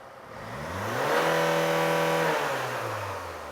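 Car engine revved hard under sudden full throttle during an emissions test with a probe in the exhaust muffler, rising in pitch, holding at a loud peak for over a second, then easing off, with no talk over it.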